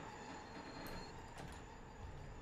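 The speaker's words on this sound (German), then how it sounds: "Ein CNL fährt vorbei" A CNL train rolling past in a railway simulator: steady rumble of wheels and carriages with brief metallic squeal-like accents, fairly faint and continuous, no voices.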